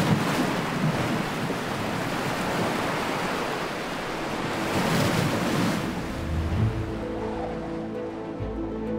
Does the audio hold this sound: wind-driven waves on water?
yes